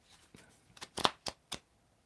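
A deck of cards gets a brief shuffle, a handful of quick papery snaps and flicks heard close and fairly quiet, with no voices.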